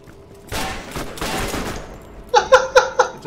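Gunfire in Borderlands, with a stretch of muffled, rumbling shots followed by a sharp, loud rapid volley of distinct bursts near the end.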